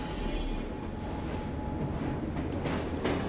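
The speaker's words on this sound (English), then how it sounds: "I'm on the train, so yeah, let's quickly leave" A train rolls steadily along in Assassin's Creed Syndicate, a continuous low rumble with a faint metallic ring riding on top, even and unbroken throughout.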